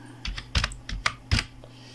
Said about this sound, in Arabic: انا غنكتب انفو وغنجي نكتب هنايا انفو